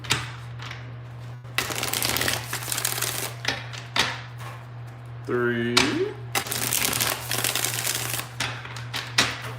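Tarot cards are shuffled in several quick riffling bursts separated by pauses, close up, while a person counts aloud and a steady hum runs underneath.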